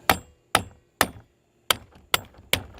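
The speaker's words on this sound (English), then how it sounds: "Now those are a little bit harder whacks." Six hard, sharp whacks land on rifle scope rings in an uneven rhythm, each a loud close crack that fades quickly, with short silences in between.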